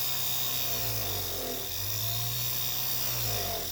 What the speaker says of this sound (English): I actually like to take it over to another polishing wheel that does not have any compound on it